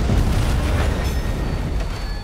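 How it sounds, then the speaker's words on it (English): A train blows up in a TV drama series, a loud, deep boom with a sustained rumbling roar that carries through the entire stretch and slowly eases off, with no voices over it. "the train blows up"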